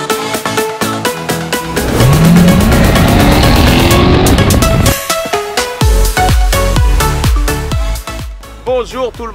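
A Dodge Challenger's engine revs hard and loud in a sustained roar, then settles into a rumbling idle with repeated blips and clicking noises nearby.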